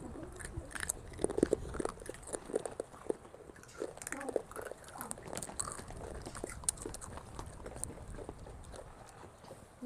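Someone chews spicy fried basreng meatball crackers close to the mic, with dense, irregular crunching bites and mouth sounds repeating steadily throughout.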